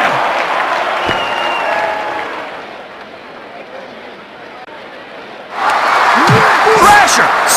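Arena crowd in the WWF Attitude wrestling video game on Dreamcast, roaring and cheering steadily throughout. The noise dips briefly in the middle, then surges loudly again, with game commentary voices speaking over it.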